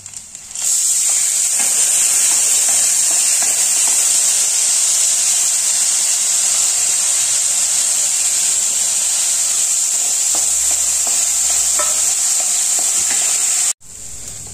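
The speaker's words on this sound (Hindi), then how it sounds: "अब जो मैंने दाल धो के रखा था, सबसे पहले इसे फ्राई करूंगा" Washed dal lentils fry in a hot pan with a loud, steady sizzling hiss that runs close and continuous for most of the time, briefly cutting out near the end.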